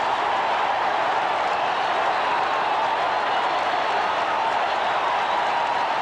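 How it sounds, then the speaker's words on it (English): Roaring stadium crowd at a 1983 Raiders at Buffalo Bills football game in Buffalo, a dense steady wash of cheering and applause without break. "Like a playoff game, the way this crowd has risen up"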